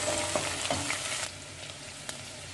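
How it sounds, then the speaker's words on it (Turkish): Onions and peppers sizzle and crackle in a frying pan as they are stirred together, with a few scraping spoon strokes early on; the frying is steady and close, quieter in the second half, with no talk. "Soğanımız pişmeye başlayınca pembeleşince biberlerimizi katıyoruz. Bir güzel karıştırıyoruz."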